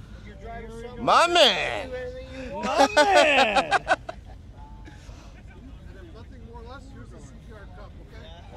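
A Mopar car at the Moparfest 2024 car meet fires up and revs twice in quick bursts nearby, then settles to a low idle while people chat and cheer.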